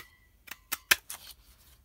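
Scissors snip through paper and cardstock during gift-box crafting, a few crisp, close cuts spaced irregularly over a couple of seconds in an otherwise quiet room.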